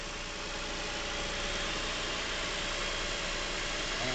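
A Lincoln MKX engine idles with a knock, giving a steady dense mechanical rumble with an even rapid ticking texture, heard close and continuous with no voices.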